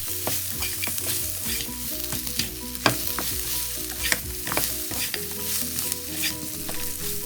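Salt and pepper pork ribs stir-fried in a very hot wok, with a steady loud sizzle and clattering spatula strokes and scrapes throughout, close up and with no talking.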